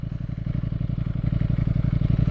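A 2021 Ducati Streetfighter V4S engine throbs steadily and loudly close by, a fast, even rumble with no talking over it.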